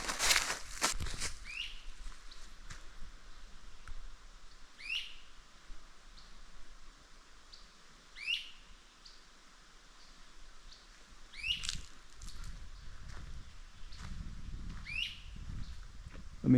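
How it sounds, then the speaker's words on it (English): Short, sharp bird calls repeat every few seconds against a quiet outdoor background, with a few soft rustles and footsteps. "What kind of bird is that?"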